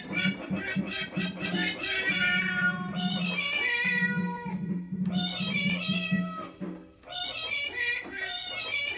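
Cat meows are arranged into the melody of a song: clear, close meows sung in phrases with short pauses between them, over a low, rhythmic meowing backing line.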